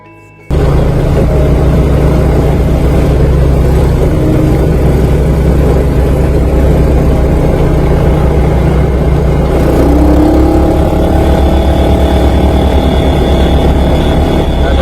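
A motorcycle rides along with a steady loud engine drone and road rumble that runs nearly unbroken throughout, close to the microphone, after a brief quiet start.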